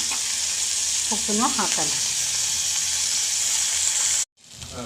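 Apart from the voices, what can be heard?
food frying and sizzling in a pan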